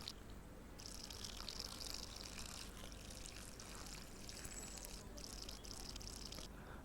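Olive oil poured in the Cooking Simulator VR game, a steady soft liquid stream in bursts of a few seconds with brief pauses, faint and close with no talking.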